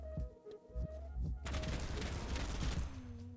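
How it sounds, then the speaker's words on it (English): Pistol fire at a target dummy in the shooter game BattleBit Remastered: a few low thumps, then a dense burst of rapid, loud shots that carries on for a couple of seconds before it fades. "Wait until we shoot at a dummy."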